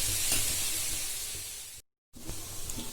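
Steady sizzling of onions sautéing in a pan, a continuous bright hiss with faint stirring scrapes, broken by a brief moment of silence.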